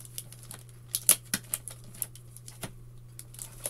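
Scissors cutting hard plastic packaging off an L.O.L. Surprise O.M.G. 4-in-1 Glamper toy box, heard as a series of sharp, irregular snips and crinkles close by, with no talking.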